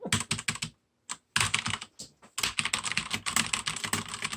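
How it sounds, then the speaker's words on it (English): Someone types rapidly on a computer keyboard close up, producing dense bursts of sharp clicking keystrokes broken by a few brief pauses, with no talking. "This is the infamous keyboard."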